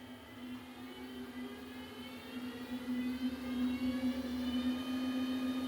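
A treadmill motor at speed 9 whirs steadily with a strong constant hum, rising slightly in loudness, running continuously without any voices.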